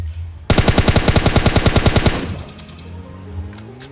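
Rapid automatic gunfire in PUBG Mobile Lite during a duo-versus-squad fight in a compound, a loud burst of about fifteen evenly spaced shots lasting under two seconds, then fading echoes and quiet ambience.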